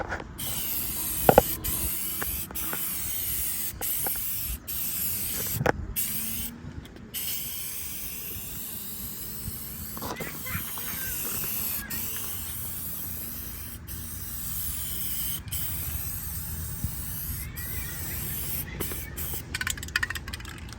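Spray paint hissing onto a Nissan Rogue during the final coat of a blackout job, long continuous aerosol bursts broken by short pauses and the rattle and click of the can, close and steady.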